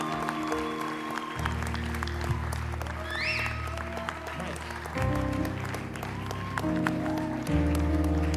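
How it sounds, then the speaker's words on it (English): Audience applause at a book launch, steady clapping from a crowd throughout, fairly even and moderately loud, with a bit of murmuring beneath. "So let's clap, clap, clap,"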